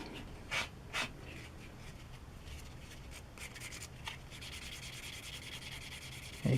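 Fine sandpaper rubbing over primer on a Tamiya 1/12 Yamaha YZR M1 '09 model kit, a quiet steady scratchy rasp with a few sharper strokes and a knock at the end, close and alone.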